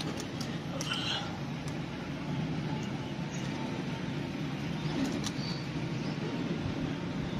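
Soft pigeon coos murmur under a steady background hum, with occasional faint chirps and rustles.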